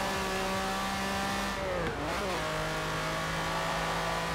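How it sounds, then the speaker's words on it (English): A Lamborghini Countach in the racing game Forza Horizon 4 holds a steady loud engine drone, with one quick rev dip and climb midway before settling back to a constant high note, with no talking. "That Countach sound really good, guys."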